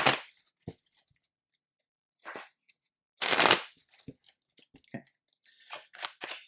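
Tarot cards being shuffled and handled at close range, with bursts of crisp riffling and soft rustling separated by short pauses, loudest in a strong flurry near the middle.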